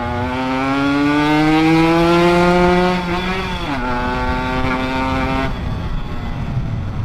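A 2-stroke pocket bike engine revs loud and close, a buzzing whine that climbs in pitch for a few seconds, dips sharply, then holds and fades into rough idle.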